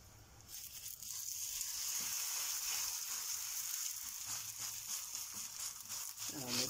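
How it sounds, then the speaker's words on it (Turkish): A Turkish çörek bun fries in a pan with a steady, close sizzle that holds evenly for several seconds and has no talk over it. "Çöreğimi alıyorum ve ikinci çöreğimi tavama koyuyorum."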